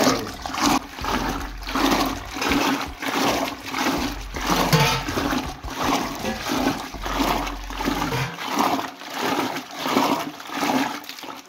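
Curd from buffalo milk is churned by hand in the traditional way with a wooden churner to make butter, giving steady rhythmic sloshing strokes up close that keep going without pause.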